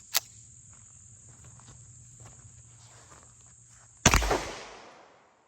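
A single sharp, loud 9mm pistol shot from a CZ Shadow 2 Accu Shadow with a 4.9-inch barrel, fired at a bulletproof backpack from 15 yards outdoors among chirping insects, its blast ringing out and decaying over a second.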